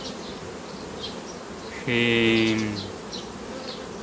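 Honeybees buzz around beehives at an apiary in a steady, droning hum, with a louder, closer bee passing by for under a second before the swarm's background buzz continues.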